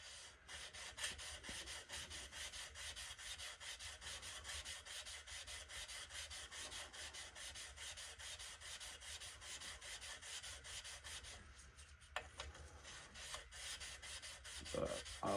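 Steady, continuous rasping of a knife blade rubbed back and forth on a 220 grit man-made abrasive sharpening stone, close and even throughout with a few brief knocks near the end.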